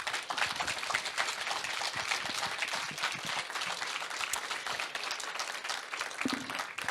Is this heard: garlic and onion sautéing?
no